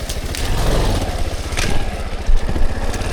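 A dirt bike engine revving and idling on a rough mountainside trail, loud and close with a steady low chug and bursts of clatter throughout.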